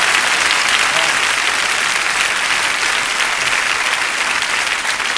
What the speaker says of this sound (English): Give me a round of applause right quick.